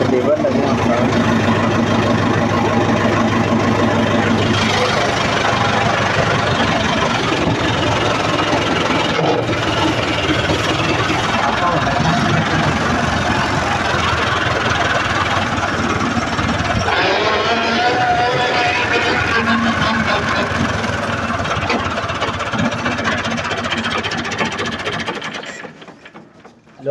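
Near a farmhouse, a tractor that has just been started runs with a loud mechanical clatter and a ratcheting rattle, continuous for about 25 seconds before it cuts off abruptly, with voices faintly underneath.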